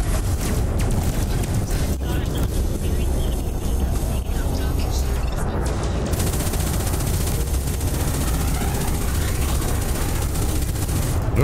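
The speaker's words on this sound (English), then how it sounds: "All kinds of explosions everywhere." Explosions and gunfire from a spaceship battle in a conflict zone in Elite Dangerous Horizons form a dense, continuous, loud rumble and crackle that never lets up.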